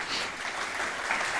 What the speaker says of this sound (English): So let's everyone clap about that.